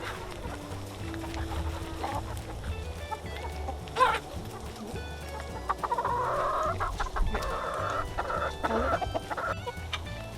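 Chickens cluck and murmur inside a backyard coop where a rooster flaps his wings and a speckled Sussex hen is kept, with close, varied clucking and squawks throughout.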